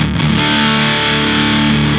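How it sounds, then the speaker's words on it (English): Electric guitar played through a Lekato Black Tank distortion pedal in turbo mode with gain maxed, a loud, thick, saturated sustained chord ringing close and alone. "Turbo mode, distortion knob, all the way up."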